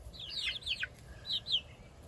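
Eight-week-old chickens give a few soft, quick clucking calls in two short bursts, faint against a low background rumble.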